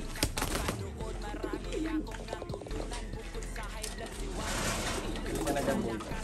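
Pigeons coo in soft, repeated throaty calls close by, while a voice talks over them and light rustling fills the gaps.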